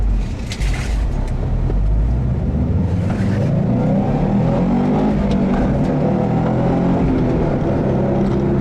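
A 2012 Subaru Impreza WRX STi accelerates hard from inside the cabin, its engine droning loud and close with a rising, throaty roar and road rumble throughout.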